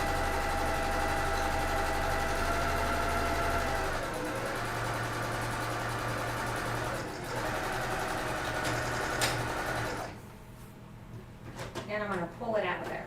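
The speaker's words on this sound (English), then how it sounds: "And now I'm going to sew along the other edge." A sewing machine stitches along the edge of a jelly roll coffee cozy with batting inside, a steady close motor whir running unbroken for about ten seconds before it stops and a voice speaks.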